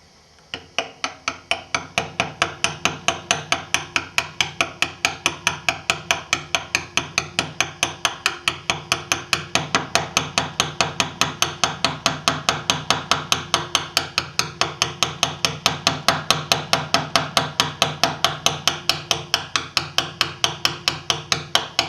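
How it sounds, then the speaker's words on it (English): A hammer strikes a flat chisel over and over while carving a low relief in stone, the sharp metallic taps coming fast and steady, close and loud, with no talking. "work with the flat chisel"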